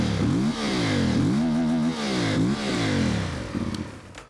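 A CFMOTO IBEX 450 motorcycle on its stock exhaust is revved repeatedly, each loud, close blip rising and then falling back, with several throttle sweeps in a row and a brief rougher idle at the end.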